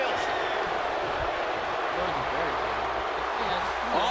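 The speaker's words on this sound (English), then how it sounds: "do you hear this capacity crowd?" A capacity arena crowd roars steadily in the WWE 2K25 wrestling video game, a constant dense cheer and clapping wash with a commentator talking over it.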